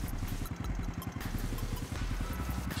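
Suzuki Supra motorcycle engine idling smoothly up close, a steady rapid mechanical putter with even pulsing firing beats throughout and no voices.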